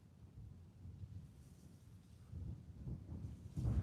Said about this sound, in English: It's just too damn windy.